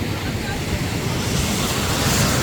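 Gentle waves wash onto a deep gold sandy beach on a calm, flat stretch of Australian coast, a steady broad hiss of surf mixed with wind rumble against the microphone, continuous and fairly close.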